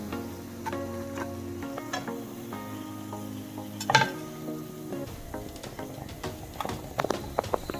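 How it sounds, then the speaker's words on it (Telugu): Bread pieces frying in a pan for shahi tukda, a soft steady sizzle broken by irregular clicks and knocks of turning utensils, with a sharper clatter near the middle, fairly quiet and close. "ఇలా ఈ రంగు వచ్చేదాకా వేయించుకోవాలి."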